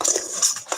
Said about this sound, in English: I'm just gonna stir these ingredients together.